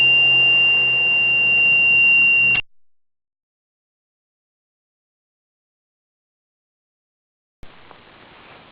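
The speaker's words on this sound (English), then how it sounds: "We have a hydrogen sensor, hydrogen alarm here. It will only be activated when it gets real hydrogen to it." A hydrogen sensor alarm on an electrolyzer demonstration unit sounds a loud, steady electronic tone, cuts to silence for several seconds, then resumes with a harsher buzzing tone near the end.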